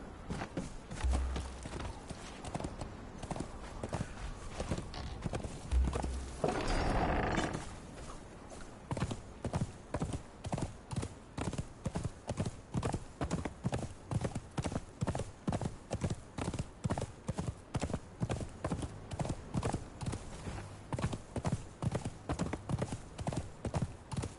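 Horse hooves clip-clop steadily in the video game Conan Exiles, a brief whoosh and scuffle early on giving way to a long, even trotting rhythm of close, distinct hoofbeats.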